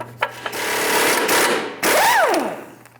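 An impact wrench with a 30mm socket buzzes steadily on the front ball joint mounting nut of a 2015-2025 Ford Transit 250, briefly stopping, then spinning up again with a rising and falling whine as the nut comes off.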